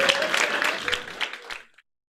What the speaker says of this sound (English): round of applause for Lindsay.